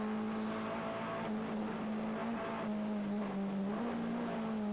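A BMW trophy race car at the 1990 Vila Real street circuit, its engine droning steadily with shifting pitch as it runs, fairly distant and sustained.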